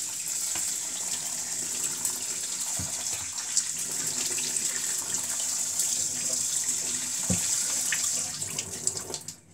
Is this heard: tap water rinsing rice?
yes